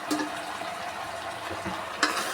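Tomatoes are stirred in a frying pan, giving a soft continuous sizzle with a few light scrapes and one brief clatter near the end.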